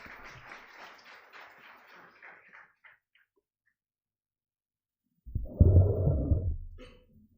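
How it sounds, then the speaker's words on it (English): Broad, steady applause swells up after a few seconds of quiet, loud and sustained, following fading crowd noise at the start. "give a huge round of applause"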